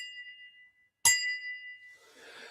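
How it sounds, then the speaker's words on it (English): A glass mini coupe tapped once, giving a sharp bright ding that rings on and slowly fades, followed by soft rustling. "when you get a good ringing sound when you tap it"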